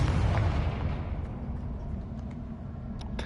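A Confringo explosion spell in Hogwarts Legacy gives a loud, rumbling blast up front that decays into a low, sustained roar, with a few faint sharp pops near the end.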